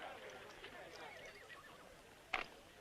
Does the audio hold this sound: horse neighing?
yes